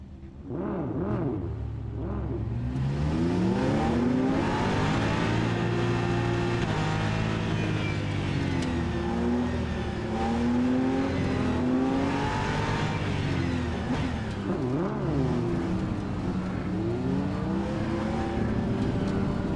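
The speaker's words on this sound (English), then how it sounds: "I will try and put in a video now of a race start." Racing cars roar off the line at a race start in the sim game Rennsport, a dense pack of engines revving and climbing through gears, loud and continuous throughout with no talking.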